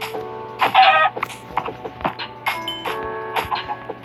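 Chickens clucking in a backyard coop, a series of short irregular clucks and squawks, fairly close and moderately loud, with no talking over them.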